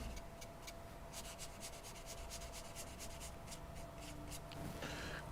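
A paintbrush blends gouache paint with water on paper, a close, quiet scratchy rubbing made of quick repeated strokes at a steady pace.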